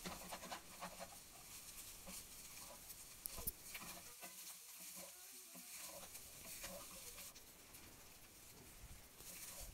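Fried rice with soy sauce is stirred in a pan, giving faint repeated scraping and a low sizzle that briefly drops away before resuming, with no one speaking.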